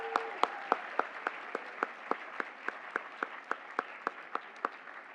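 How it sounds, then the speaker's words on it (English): At a graduation ceremony, a faint spread of audience applause sits beneath one distinct nearby pair of hands clapping in a slow, even rhythm, roughly eighteen crisp claps in a row. "I think you should get another round of applause"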